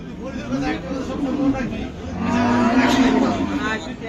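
A Qurbani cow recovered from lumpy skin disease lets out two long, low moos, the second louder and longer, with people chattering in the background at the Hazratpur cattle market.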